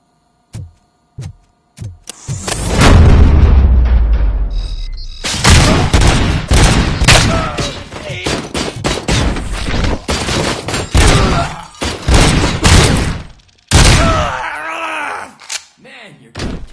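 Gunfire in a Robocop game, loud bursts of rapid shots and heavy booms with brief gaps between volleys, close and harsh, with grunts and groans between the shots.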